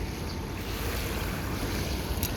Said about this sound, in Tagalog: Grabing ulan yan.